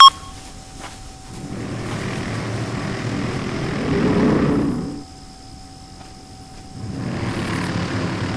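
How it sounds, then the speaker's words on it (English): Enemy helicopter in the ARMA video game, a steady droning rotor and engine rumble that swells louder midway, drops away, then returns, heard without talk. "Enemy. Chopper at 500 meters."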